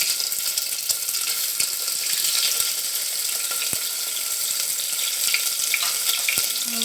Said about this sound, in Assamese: এতিয়া আমি কণীটো ভাজি লওঁ আৰু আলুখিনিও ভাজি লওঁ